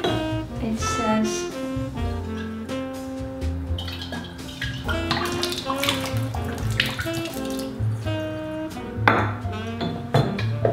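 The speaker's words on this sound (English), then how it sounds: "I just want to put a little bit of water in here." Water from a 3-gallon bottle pours into a container in a kitchen, a gurgling, bubbling trickle that shifts in pitch as it fills, close by, with some speech alongside.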